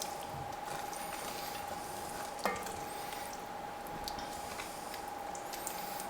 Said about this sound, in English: so now we can just give this a little stir